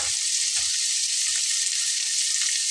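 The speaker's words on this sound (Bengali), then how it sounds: "ভাজা হতে হতে এর ভেতরে আমি দিয়ে নেব ছোলা" Boiled chickpeas fry in hot oil in a pan, giving a steady, dense sizzle with a few soft low stirring thumps, close by and without voices.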